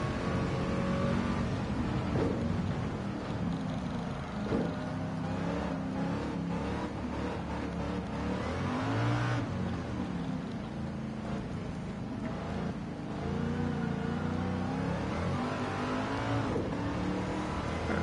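A race car engine in Gran Turismo 7 during a race on a wet track roars continuously at close range, its pitch climbing and dropping as it accelerates and lifts, with no voices over it.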